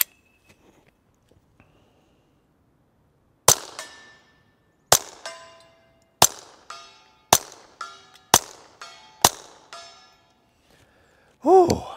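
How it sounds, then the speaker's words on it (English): A rifle fitted with a Gemtech Mist suppressor firing CCI suppressor 45-grain subsonic rounds: seven sharp, suppressed cracks spaced about a second apart, each with a short metallic ring. A quiet lead-in comes first and a brief electronic tone closes the clip. "And now we'll be shooting some CCI suppressor."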